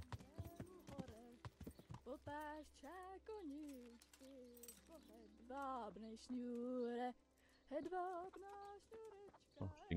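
Horse hooves clop in a steady rhythm as a rider enters a village in the medieval game Kingdom Come, heard near under someone talking over the game sounds.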